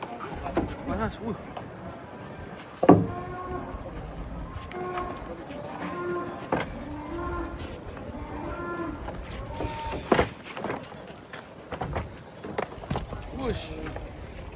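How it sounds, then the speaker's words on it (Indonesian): Cattle being unloaded from a truck, with a few low moos and the clatter of hooves and metal, while people talk over much of it. "Wow, sapi nih."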